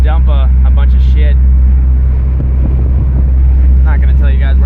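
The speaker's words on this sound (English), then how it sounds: "Sounds great with the exhaust" A lifted Honda CR-V's engine and exhaust rumble steadily and loudly at a low pitch, with wind buffeting the microphone and someone speaking over the start and end.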